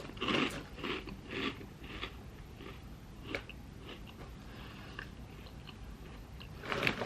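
Dry Waffle Crisp cereal eaten by the handful, close crunchy bites and chewing in irregular bursts, loudest at the start and end, with quiet pauses between.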